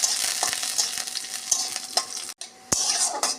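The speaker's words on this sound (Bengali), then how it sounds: "রসুনটা আমি আগে ভেজে নিচ্ছি" Garlic frying in oil in a pan sizzles up close, with steady spatula scrapes and stirring knocks and one brief pause before the crackle resumes.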